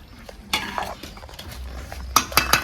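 Village-style mutton curry with potatoes is scooped from a pan into a pressure cooker with a metal spoon, giving close scraping and clattering hits against the pan, loudest in a quick cluster near the end, with no talk.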